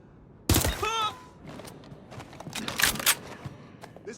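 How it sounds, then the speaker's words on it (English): Burst of gunfire in the video game Watch Dogs Legion: a loud, sharp volley of shots near the start, then scattered fainter shots and action noise trailing off. "They're shooting at us!"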